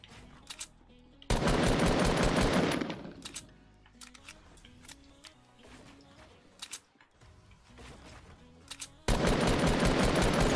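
Fortnite gunfire: two loud sustained bursts of automatic fire at the start and end, separated by quieter in-game clicks and chirps.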